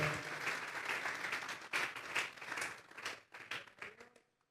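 A congregation in church claps hands as an offering of praise, a full, busy burst of applause that thins out into scattered, separate claps before dying away to silence.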